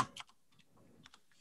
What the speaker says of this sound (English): This is what I get for typing too quickly.